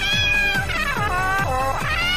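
Cat meow sound effect from RPG Maker MZ, a series of about five loud, close, drawn-out mews in steady succession with no talking.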